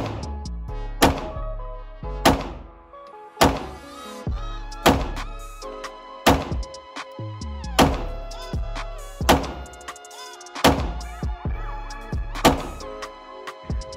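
A Glock 43X pistol fires rounds at a paper target on a range. About eleven sharp, loud shots come at a steady, unhurried pace roughly a second apart, each followed by a short ringing decay.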